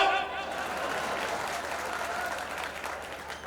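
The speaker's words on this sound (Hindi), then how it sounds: "बढ़िया ही कहता हूँ, ताली बजाओ।" A crowd claps steadily through a lively stage show, a dense, fairly distant wash of applause that holds evenly and fades a little at the close.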